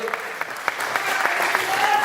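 Audience applause for a poet at a Hindi kavi sammelan, a dense, close burst of clapping with rhythmic pulses that holds steady and builds slightly toward the end.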